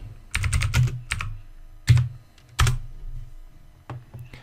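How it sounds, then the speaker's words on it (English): Keystrokes on a computer keyboard type out a terminal command, a close series of sharp clicks in quick bursts with short pauses between. "you can open a terminal and start the Social Engineering Toolkit by typing sudo set toolkit"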